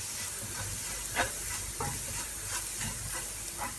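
Sautéed onions with garam masala and turmeric are stirred in a pan while cooking chicken cutlet filling. A spoon scrapes in irregular strokes over a constant hiss of frying, close and fairly loud.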